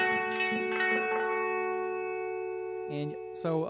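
A sustained guitar tone through a Line 6 DL4 MKII with delay stacked on reverb, harmonics ringing on and slowly decaying, with a few softer repeated notes near the start and a new plucked note near the end.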